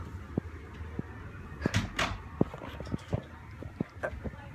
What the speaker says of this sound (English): Right now I'm going to shut the door.